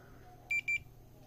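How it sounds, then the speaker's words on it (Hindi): A multimeter set to buzzer continuity mode gives two short, sharp, high-pitched beeps in quick succession over a quiet background. "मैंने इसको बजर मोड पे रख लिया"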